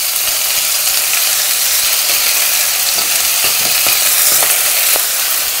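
Mustard seeds and cumin fry in a hot pan, giving a steady loud hiss with scattered small crackles and pops, close up and without any talking.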